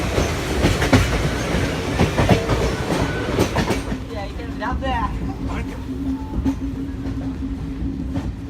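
A train running on rails near Hampi, India, a loud steady rumble with rhythmic wheel clatter throughout, and people talking and cheering over it in the first half.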